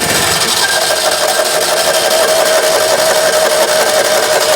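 A 2CV-based Falcon S kit car, abandoned for 23 years, turns over and runs with a steady, loud engine drone that holds throughout with no break and no voices.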